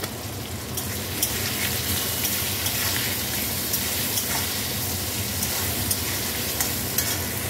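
Potatoes seasoned with salt and a little turmeric fry in a pan for a cauliflower curry, giving a steady close sizzle like light rain, with occasional soft clicks of stirring and no talking.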